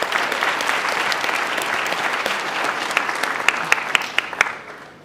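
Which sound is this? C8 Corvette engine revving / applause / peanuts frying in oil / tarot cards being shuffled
applause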